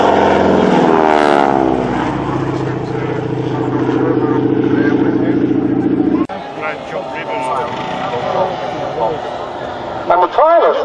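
Radio-controlled large-scale model aircraft making a low pass at a model flying display, its loud propeller engine droning steadily close by, then cutting off abruptly partway through, leaving quieter outdoor noise and voices.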